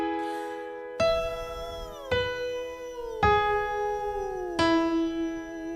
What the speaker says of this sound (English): If we're doing puffy cheeks, it should sound like this.